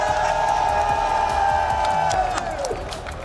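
A large arena crowd at the Call of Duty: Black Ops 7 esports finals cheers and whoops loudly and steadily, with clapping and sustained roaring that fades slightly toward the end.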